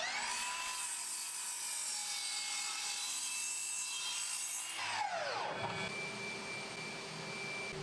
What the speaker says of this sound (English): a few of them needed a little more material removed, which was easy to do on the miter saw